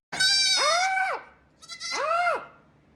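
Mini goats getting ear tags bleat twice, loud and close: two long wavering cries, the second following after a short pause, with no talk over them.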